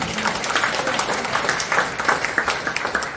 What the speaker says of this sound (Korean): 우리 모두를 위해서 박수 한번 보내주십시오